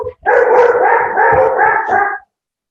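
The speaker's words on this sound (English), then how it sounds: "We have a herd of dogs here." Several dogs barking indoors, a single loud, close burst of overlapping barks and yips lasting about two seconds before stopping.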